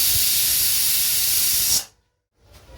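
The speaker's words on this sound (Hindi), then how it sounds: "हमारे कुकर से 3 व्हिसल्स आ चुके हैं।" A pressure cooker releases steam in a strong, steady hiss that runs close and loud for nearly two seconds, then cuts off abruptly, leaving near silence and a faint rustle.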